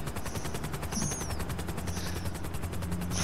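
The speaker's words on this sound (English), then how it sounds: "I just see your helicopter." A helicopter in the video game GTA V, a steady rapid rotor thud that runs throughout, loud and close, with a brief whistling tone over it.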